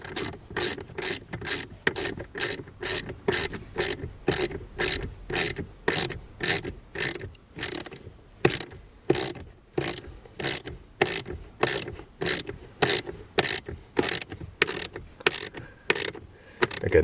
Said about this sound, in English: We'll just get our little mini wrench, tighten these up.